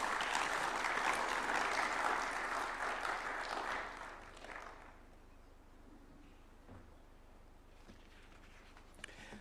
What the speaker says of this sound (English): Another round of applause for Zainab.